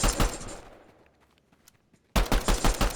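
Rapid gunfire in the video game Fortnite sounds as loud automatic bursts, fading briefly into near quiet before another dense volley of shots resumes.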